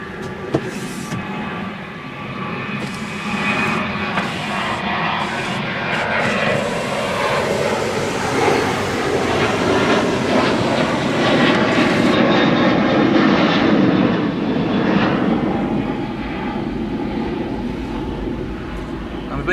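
A Southwest Airlines airliner takes off at El Paso, a loud sustained jet roar that builds and swells toward the middle before slowly fading, heard from a roadside spot with a person talking over it.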